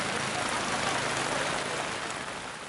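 Heavy rain pours steadily in Banjarmasin, a dense and even hiss of drops hitting surfaces that stays loud and continuous throughout, with no voices.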